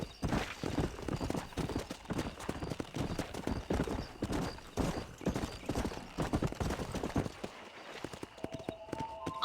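Horse galloping in the Red Dead Redemption video game, rapid loud hoofbeats pounding close in a steady driving rhythm, with a brief neigh mixed in, before the pace breaks near the end.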